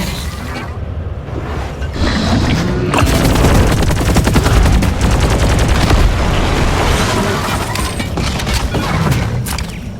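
Sentry gun in the Deep Rock Galactic video game firing in loud, rapid, continuous bursts of gunfire, with booms and heavy combat noise filling most of the ten seconds.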